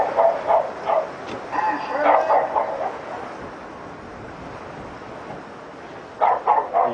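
A dog barks in a neighbouring flat, a burst of several barks and yips, then silence before another short run of barks, muffled and mid-distance.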